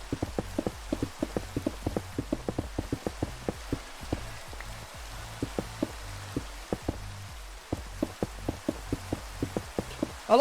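Steady clip-clop of a white horse's hooves in Minecraft, a run of sharp, evenly spaced taps over soft rain falling on the ground, fairly close, with no talk.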